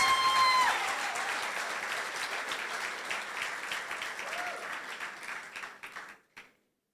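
Audience applause at a school's back-to-school opening ceremony, a dense sustained round of clapping from a large crowd that fades out toward the end, with a voice briefly over it at the start.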